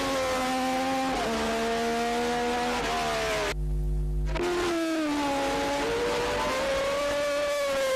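1977 Formula 1 race cars at the South African Grand Prix, loud engines screaming with rising and falling pitch as cars pass close, one brief gap, then more cars roaring by.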